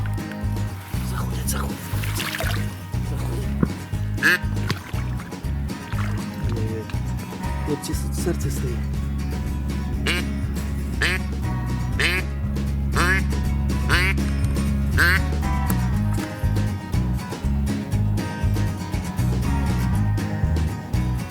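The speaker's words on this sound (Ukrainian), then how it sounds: "Бо в небі качки було стільки, що аж очі розбігалися" Ducks quack loudly and repeatedly in overlapping bursts during a duck hunt, landing all around, while a person speaks over them.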